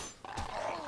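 A dog enemy in Dark Souls 2 gives a short, close growling snarl amid the game's steady background noise.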